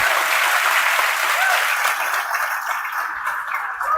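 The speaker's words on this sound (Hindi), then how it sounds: "तो एक बार श्री प्रेम बिहारी नारायण रायजादा जी के लिए जोरदार तालियां।" A class audience applauds loudly and continuously in a room, the clapping thinning slightly toward the end, with no voices over it.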